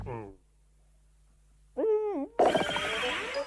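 A cartoon bird call from the ninja dog Shishimanu, turned into a small bird, gives a short sliding hooting cry after a brief voice, then a noisy burst follows.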